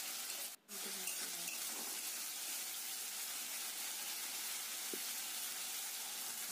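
Water pours into a pan of pomfret fish curry (macher jhal), giving a faint, steady hiss and light sizzle with a brief drop partway through.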